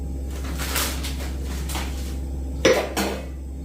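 Stainless steel multi-purpose jars from a Bosch Truemix Pro mixer clink and knock as they are handled during unpacking, with a couple of sharp metallic clanks late on over a steady low hum.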